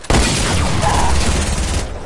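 Gunfire in a first-person shooter video game, a loud, sustained burst of rapid shots that carries on for about two seconds, close and dense.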